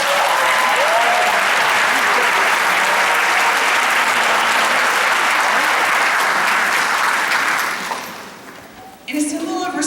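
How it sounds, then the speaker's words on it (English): A graduation ceremony crowd applauds loudly and continuously for about eight seconds, then the clapping fades quickly to near silence before a brief sound returns at the end. "let's give your family and friends a round of applause"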